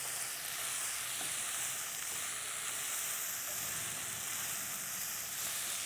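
Onions fry in a pan for pasta, a steady close sizzle and hiss with faint stirring, unbroken and even with no voices.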